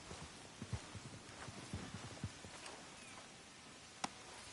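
Horse hooves clip-clop at a walking pace in Red Dead Redemption 2, a series of soft, muffled thuds in an uneven rhythm. They sound faint and slightly distant, with a single sharper click near the end.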